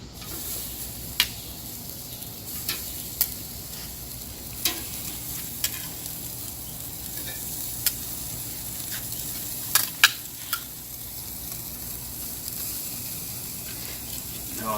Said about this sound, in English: So let's go ahead and get these on the grill.